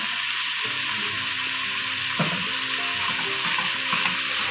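Onions sautéing in a pan with salt and turmeric, a steady close sizzle and hiss with occasional spoon scrapes and clinks, no talking.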